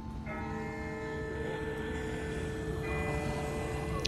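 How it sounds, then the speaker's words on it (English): A distant bell rings in The Walking Dead: Season 1 video game, its sustained tolling tones hanging steadily under a constant low rumble. "That's not the same bell as before. This one's further off."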